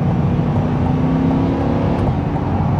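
A 2023 Corvette Stingray accelerates hard, its engine giving a loud, continuous rising roar with a deep throaty growl from inside the car, alone with no talking.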